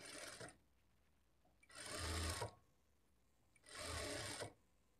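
A sewing machine stitching a boutique-style blouse in three loud, close bursts of rapid, even running, each lasting under a second, with quiet pauses between them.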